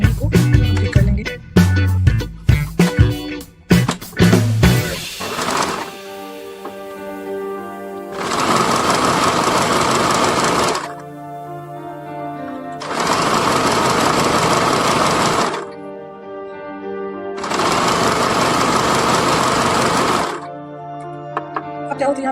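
Sewing machine stitching the hem of bellbottom palazzo pants runs in three long, steady bursts of a few seconds each, separated by short pauses, after a stretch of irregular clattering and handling sounds.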